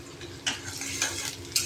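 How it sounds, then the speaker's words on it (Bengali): Chopped onions fry in hot oil with panch phoron, giving a brief steady sizzle punctuated by a few quick spatula scrapes against the pan, close and moderately quiet. "তারপর দিয়ে দেবো কেটে রাখা পেঁয়াজগুলো।"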